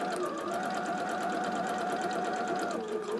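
A sewing machine stitches quilt block fabric in a steady, even whir of rapid needle strokes, close and continuous for a few seconds before it slows near the end.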